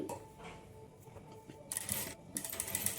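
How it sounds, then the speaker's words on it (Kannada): A sewing machine stitching a boat-neck blouse, quiet at first, then short bursts of rapid mechanical whirring and clatter in the last half, heard up close. "ಸ್ವಲ್ಪ ಸ್ವಲ್ಪ ದೂರ ಸ್ಟಿಚ್ ಮಾಡಿಕೊಂಡು ಟೆನ್ಷನನ್ನು ಕೆತ್ತಿ ಈ ರೀತಿ ತಿರುಗಿಸ್ಕೊಳ್ತಾ ಸ್ಟಿಚ್ ಮಾಡ್ಕೊಳ್ಳಿ"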